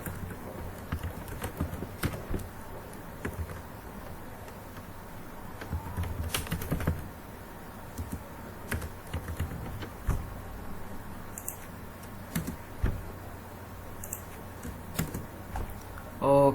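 Typing on a computer keyboard, irregular close clicks and clacks in short bursts with pauses, continuing for several seconds, with a voice speaking faintly at times.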